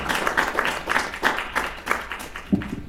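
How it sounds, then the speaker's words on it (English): Audience applause at the close of a talk on zonulin and the gut-brain axis: a steady patter of many hands clapping at moderate distance for about three seconds, with a few sharper individual claps rising above the wash. "let's give him a big hand and clap"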